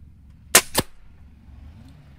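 A Stoeger XM1 air rifle rated 20 joules fires H&N pellets at a 30-metre target: a sharp, loud crack followed by a second, thinner snap a fraction of a second later, then quiet.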